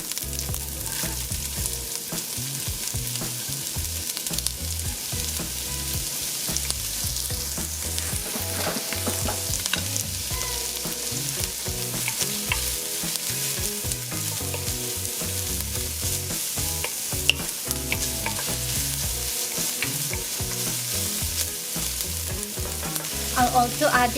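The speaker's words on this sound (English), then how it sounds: "And right away I'll add the onion in." Onion and callaloo sizzle steadily in a hot pan with oil, a continuous crackling fry punctuated by the scrape and clatter of stirring throughout, close and fairly loud with no talking.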